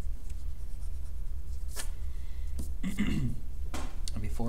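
Pencil drawing bumpy diagonal lines on paper, soft scratchy strokes in short bursts, close and quiet under steady low background hum.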